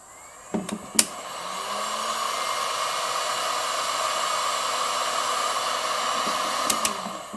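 Steady rushing whoosh of heat being applied to the bottom of a 1/8 oz freestyle lead jig head before powder coating, loud and continuous for several seconds, with sharp clicks at the start and end.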